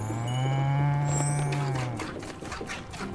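A cow moos once, long and steady for about two seconds, in the video game Spiritfarer, followed by light clattering and digital game sounds.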